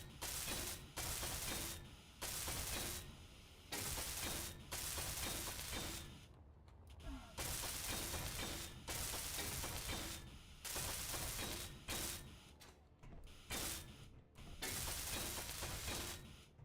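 Welding in the video game Space Engineers comes through as loud, rough bursts of crackling noise. Each burst lasts about a second and repeats in a steady on-off rhythm, separated by brief gaps.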